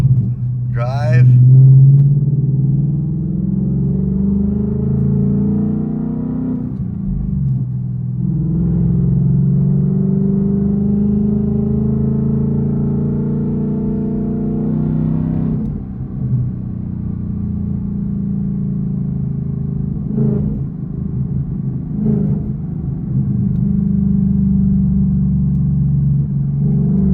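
A Ford Mustang GT S650 with a custom H and X pipe exhaust drives along, its steady low engine rumble continuous with brief swells, while a voice talks over it now and then.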